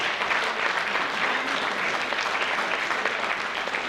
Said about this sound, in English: I request everyone to please applaud for Mr.